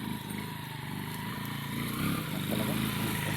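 A motorcycle labours on loose gravel, its engine giving a rough, continuous drone that rises slightly toward the end, heard close and steady.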